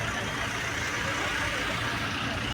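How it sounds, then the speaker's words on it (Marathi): A long convoy of cars accompanying a Maratha leader heading toward Solapur makes a steady, unbroken roar of engines and road noise, loud and close, that cuts off abruptly at the end. "ताफा बघू शकता तुम्ही किती लांबपर्यंत गाड्या आहेत"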